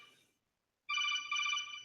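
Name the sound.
phone ringtone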